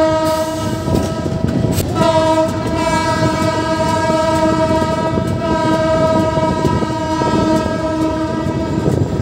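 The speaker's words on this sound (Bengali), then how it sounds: "আমাদের ট্রেনটা আবার ছেড়ে দিল" Modhumoti Express passenger train pulling out of a station on the Dhaka to Rajshahi line, its horn sounding loud and sustained with steady harmonic tones over continuous rumbling wheel and carriage noise, close by throughout with no talk.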